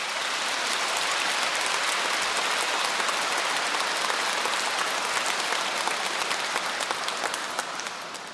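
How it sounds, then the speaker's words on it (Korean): A lecture audience breaks into sustained applause at the end of a talk on martyrs, a dense, even roar of clapping that tapers slightly near the end. "박수 너무 빨리 치시는 바람에"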